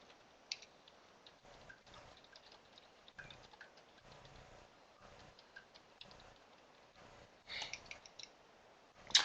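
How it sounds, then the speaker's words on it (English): Computer keyboard typing in bursts of light, irregular clicks, faint and close, with short pauses between runs and a few louder taps near the end; no talking. "While Josephine's typing"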